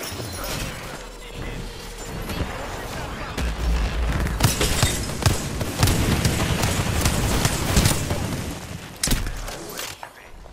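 Dense, continuous gunfire and crashing impacts from Apex Legends roll on throughout, with a few louder bursts, as someone talks over the chaos.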